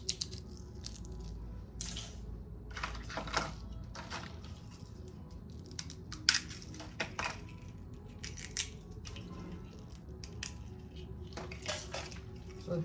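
Crispy dehydrated paprika peppers are crushed with faint, scattered crackles and crinkles at an irregular pace, close by but quiet, with no talk.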